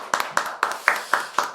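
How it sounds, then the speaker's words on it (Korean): Six evenly spaced, close hand claps ring out in a broadcast studio, a steady rhythmic clapping with no talk. "박수로 시작해 보겠습니다."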